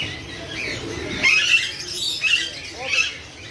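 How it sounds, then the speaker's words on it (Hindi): Pigeons at Tollinton bird market in Lahore give several short squawking calls at close range, each burst rising clearly above a steady market background. "माशाल्लाह बहुत प्यारे कबूतर हैं।"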